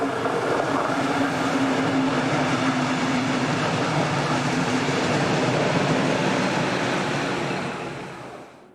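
Locomotive 152159 rounds a curve near Steinbach as banker 151032 drops off the rear, a steady loud rumble of passing rail traffic with a low droning hum that holds throughout, then fades away at the end.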